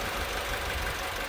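A BMW engine idles roughly with one cylinder dropped out to mimic a misfire, giving a steady, loud, close low rumble with an uneven knocking beat and no talk.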